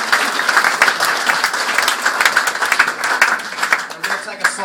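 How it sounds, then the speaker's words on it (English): Wedding guests applaud together, a dense, steady wash of clapping from a crowd that carries on throughout at a fairly loud level. "So round of applause for these guys."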